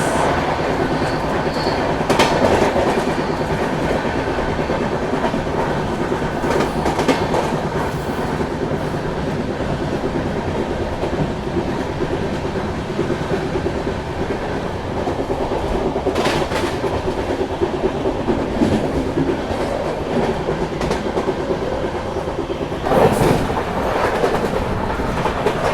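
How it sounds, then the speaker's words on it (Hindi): Secunderabad Duronto Express 12286 passes stations without stopping at about 130 km/h, heard from on board as a steady loud rumble and rattle of coaches with clickety-clack from the wheels and occasional sharp squeals, continuing throughout. "दुरंतो एक्सप्रेस"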